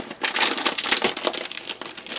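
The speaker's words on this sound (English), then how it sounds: "Sorry for the packaging noise." Crinkly plastic packaging being opened around a white glitter foil acetate sheet, a dense, continuous rustle and crackle up close that stays loud for the whole stretch, with no voice.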